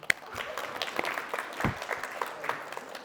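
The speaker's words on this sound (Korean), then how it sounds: "박수" A Sunday worship congregation claps briefly for a church member turning sixty, a moderate scatter of hand claps lasting about three seconds.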